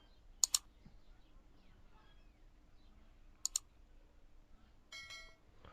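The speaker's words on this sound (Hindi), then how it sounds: "तो यहाँ से मैं इस पर क्लिक करता हूँ" A few sharp computer mouse clicks, mostly quick doubles, are spaced seconds apart in an otherwise quiet room. They are faint but crisp, and nobody speaks.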